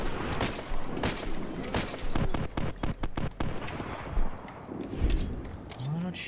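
Rapid gunfire from the video game Fallout New Vegas crackles in dense bursts, mixed with other game noise and a voice speaking over it.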